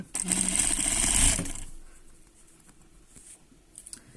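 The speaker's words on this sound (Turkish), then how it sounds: "Şu şekilde inceden kenar kısmında dikiyorum." Sewing machine stitching along the corner edge of a lace-trimmed pique set, a short close burst of whirring that stops after about a second and a half, leaving quiet handling noise.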